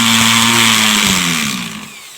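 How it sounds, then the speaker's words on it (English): A power tool drives screws to fix a brace onto a used car tyre, giving a loud, close whirring motor whine for about two seconds before it winds down and fades. "You are screwing the tire with the brace."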